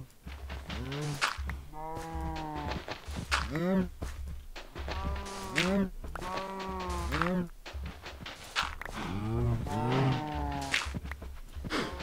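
Cows mooing in the video game Minecraft, several drawn-out lowing calls repeating over a steady background hum, with a voice talking faintly underneath.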